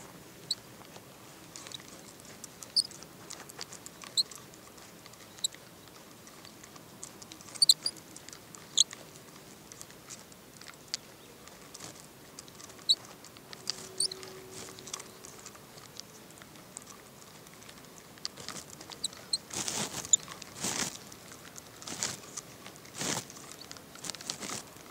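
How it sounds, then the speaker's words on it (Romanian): Light rain patters on a fishing spot at Ștefănești in Romania, scattered soft taps and ticks near the microphone, irregular and quiet, with a few louder bursts toward the end. "Este o mică ploaie."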